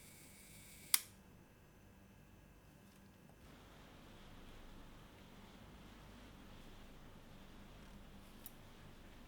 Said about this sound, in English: And test the shutter.